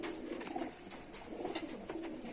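A big, sturdy foreign-breed pigeon coos in a loft, soft rolling throaty calls repeating several times close at hand against quiet surroundings, no talking heard.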